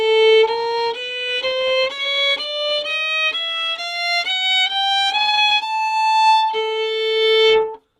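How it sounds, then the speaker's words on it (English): A steady ascending chromatic scale in 12-tone equal temperament, twelve clear half-step notes played one after another, each sustained and evenly spaced, ending on the octave. "A 12-tone equal temperate scale broken up sounds like this."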